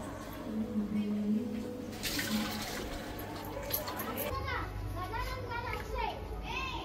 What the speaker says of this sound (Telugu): బయట పిల్లల గోల ఆడుతూ ఉన్నారనమాట.